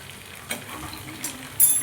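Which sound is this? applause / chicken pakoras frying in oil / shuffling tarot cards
chicken pakoras frying in oil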